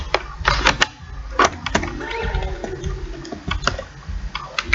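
Rapid clicking of keys on a computer keyboard while writing Python code, steady uneven taps close by with no one talking.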